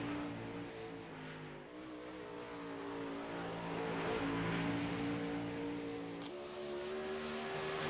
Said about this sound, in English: Eric out here, number one car out here taking some laps.